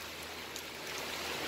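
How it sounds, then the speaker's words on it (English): A heavy rain downpour on a driveway, a steady broadband hiss of falling rain with no distinct drops standing out, fairly faint and unbroken. "it started absolutely downpouring a minute ago"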